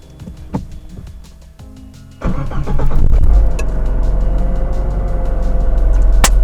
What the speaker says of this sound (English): now hopefully we pray that when I turn the key, the car still turns on